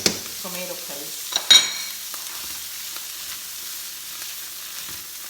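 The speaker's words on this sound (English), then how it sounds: "And I'm gonna add about 2 tablespoons of tomato paste." Tomato paste sizzles softly in a pot of Puerto Rican arroz con gandules, with a spoon scraping and clinking against the side early on, then a steady low frying hiss.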